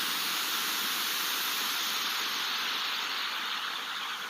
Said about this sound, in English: If you turn on an old television to a channel without a signal, you should see and hear static.